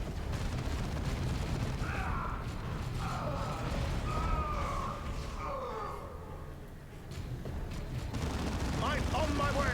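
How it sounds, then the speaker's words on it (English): Laser cannon fire pounds away in the Warhammer 40,000 Dawn of War 2 Chaos Rising video game, a dense, steady barrage of blasts and mechanical rumble throughout, with faint voices and effects layered over it. "We're getting pounded by laser cannon fire."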